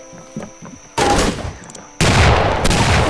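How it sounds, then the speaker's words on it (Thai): Loud bursts of Roblox gunfire in two heavy blasts, preceded by quieter tonal game effects, dense and close with no talking. "โอ้ยเจยิง"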